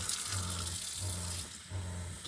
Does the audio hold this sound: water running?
yes